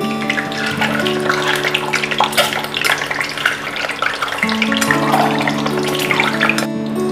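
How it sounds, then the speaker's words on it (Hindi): An egg fries in hot oil over medium heat as it is turned, giving a steady, close crackling hiss with a sustained tonal backdrop throughout. "मीडियम आंच पर उलट पलट कर फ्राई कर लेते हैं।"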